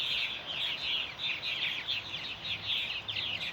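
Fledgling purple martins gather to roost, a steady mass of high chirps and twittering calls from many birds at once, continuous and moderately near with no pauses.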